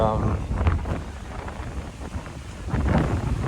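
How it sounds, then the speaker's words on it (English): Strong gusts buffet the microphone with a low, rumbling roar, while a person talks faintly underneath, on a street walk in Condado, Puerto Rico. "I hope you can hear me through the wind"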